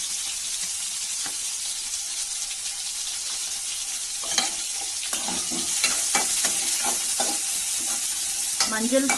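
Chopped onions frying in hot oil with a pinch of turmeric for mutton chukka, a steady close sizzle with stirring scrapes and spatters throughout.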